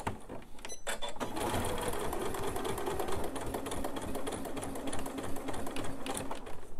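Sewing machine running a quarter-inch edge seam on a purse, sewn forward then in reverse, a loud continuous rapid whirring chatter that starts after a brief click and carries on steadily.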